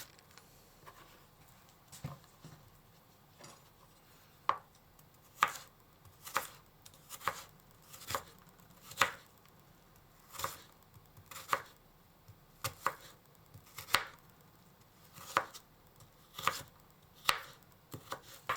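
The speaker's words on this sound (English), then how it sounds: "Let's cut the carrot, slice it thinly along the fibers, and then cut it into stripes." A knife thinly slicing carrot into strips on a cutting board, about a dozen crisp, evenly spaced chops at a steady rhythm, close and clear, with no talking.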